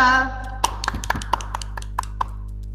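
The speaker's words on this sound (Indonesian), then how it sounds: "Tepuk tangan untuk kelompok 2" A handful of separate hand claps and taps ring out sparsely in an online peer-teaching class, applauding group 2 after its presentation, with a steady low hum underneath.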